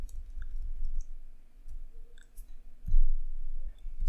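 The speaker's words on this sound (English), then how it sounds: "I'm just using my keyboard here to navigate through the links." Keyboard keys are pressed while navigating website links, giving a few sparse, soft, close clicks separated by quiet gaps, with no talking.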